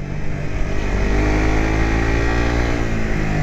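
A 150cc sport motorcycle engine runs steadily nearby, a continuous throbbing drone with a slight rise in revs, heard alone without speech.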